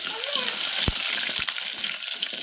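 Garlic and curry leaves frying in hot oil with cumin and mustard seeds, a steady close hiss of sizzling with a few sharp pops and clicks throughout.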